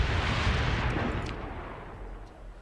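Artillery fire support in the space combat game Starsector lands as a loud booming blast that rumbles and fades over a couple of seconds, with faint scattered pops near the end.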